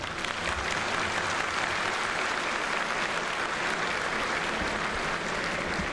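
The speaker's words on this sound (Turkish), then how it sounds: "Alkışlayan yok herhalde." An audience of religious officials in Gaziantep breaks into applause during a speech by the head of religious affairs, a dense, continuous patter of clapping heard at a fairly low, distant level.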